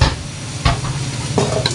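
Adobo sautéing with soy sauce in a pan sizzles and hisses steadily, broken by a couple of brief stirring scrapes.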